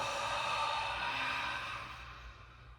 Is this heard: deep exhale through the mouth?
yes